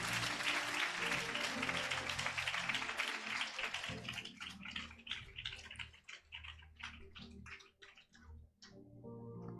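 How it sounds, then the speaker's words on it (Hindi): A congregation at a Hindi-language church sermon claps loudly in a dense, sustained burst for about four seconds, then the applause thins and scatters beneath the preacher's voice. "अगर आप मेरे साथ हैं, जोर से ताली बजाए परमेश्वर की महिमा करें।"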